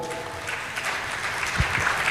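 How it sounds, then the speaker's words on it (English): A conference audience at the Nigeria International Maritime Summit claps for its panelists, a busy, fairly loud patter of hands with a few sharper claps standing out, and no voices. "Please a round of applause for all of them."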